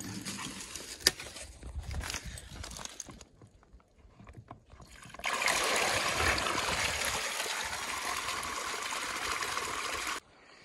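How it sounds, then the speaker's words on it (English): Water draining out of a collapsed water tank after accumulating over winter, a steady rushing stream that swells loudly about halfway through and continues before cutting off near the end. "we got to drain out all the water that accumulated in there during this winter"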